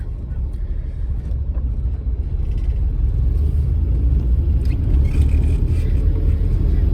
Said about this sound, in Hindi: now let's drive the car